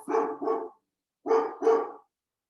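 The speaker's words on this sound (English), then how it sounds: "I don't know what he's barking at." A dog barks in two quick pairs, four loud, close barks with a short pause between the pairs and no talking.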